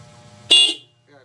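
A single short, sharp honk from a Hella compact electric car horn cuts in loudly, with faint murmuring before and after.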